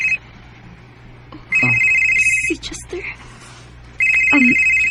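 Telephone ringing in short repeated electronic bursts, loud and close, with pauses between rings and a person speaking briefly in the gaps.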